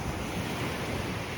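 Continuous roaring surf of high ocean waves washing onto Nanín beach in Sanxenxo, Pontevedra, in the evening, loud and broadband with wind rushing across the microphone.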